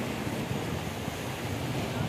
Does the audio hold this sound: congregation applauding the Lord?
no